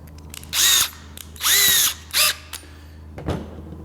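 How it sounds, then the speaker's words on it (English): A power drill with a 3/16 bit drills a hole for a peg in a double nail pad, three short whining bursts starting and stopping close by, with a faint click afterward. "to drill a hole to sit for a peg"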